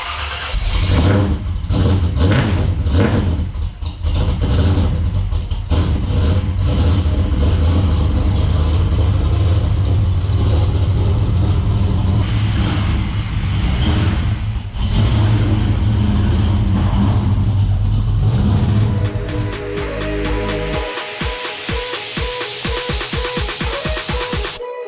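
Car engines from a garage holding an LS1 VN Commodore and an Evo, loud and continuous for about twenty seconds, with starting and revving, then a steady idle pulsing near the end.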